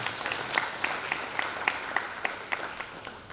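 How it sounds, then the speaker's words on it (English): Audience applause for an archbishop at a college conference on agriculture and forest rights, moderately faint clapping from a modest crowd with distinct rhythmic claps standing out. "Let us give a big round of applause for the Archbishop."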